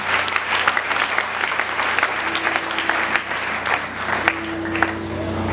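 A church congregation applauds in praise during a French-language service, a continuous wash of clapping from many hands with a low steady hum running beneath it.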